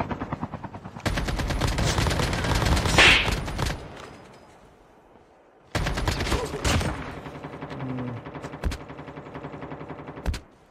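Gunfire from a Call of Duty Mobile battle royale match comes in two dense bursts of rapid shots, loud and close, with a quieter gap between them and a few sharp single cracks near the end.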